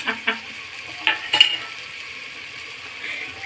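Spices stirred and frying in a pan for aloo pulao, with a few scraping clinks of a spoon over a low, steady sizzle.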